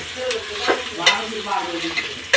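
Beans, green chillies and ginger-garlic paste fry in a pan while being stirred, a close, busy sizzle broken by repeated spatula scrapes and clicks.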